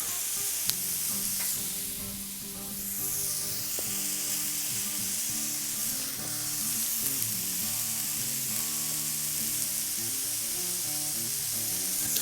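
A mushroom smashburger and toasting buns sizzle loudly and steadily on a hot griddle, a close continuous crackle with no talking and background music running underneath.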